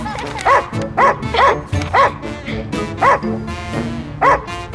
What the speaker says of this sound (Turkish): Çek şu köpeği diyorum ya.